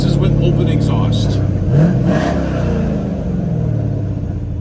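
A 1964 Chevrolet Chevelle Malibu with open exhaust revs close by: a loud, deep, rumbling idle that swells in one rev around the middle and then settles back into a steady, throaty burble.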